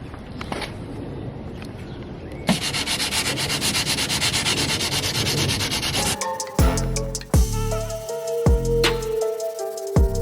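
A sanding block is worked by hand over a rusty BMW car body, making a steady, close, harsh rubbing hiss that continues for several seconds, followed by choppier scraping strokes and a few knocks.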